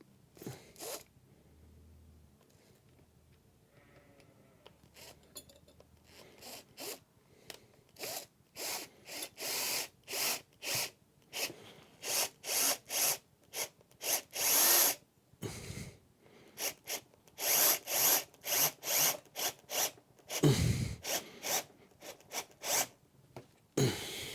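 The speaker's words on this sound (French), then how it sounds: "Je prends un tournevis plat et c'est parti." A flat screwdriver drives a screw in a series of short, rhythmic grinding twists, each turn a brief rasping burst separated by pauses, close and alone.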